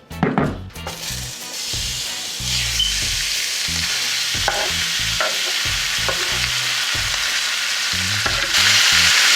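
Food fries in hot virgin olive oil, a steady loud sizzle with an initial burst of spatter and repeated scraping stirs of a utensil in the pan throughout.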